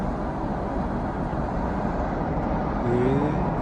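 A newly bought car driving along a road, with a steady, close broadband rumble of road and wind noise throughout that swells slightly near the end. No one speaks.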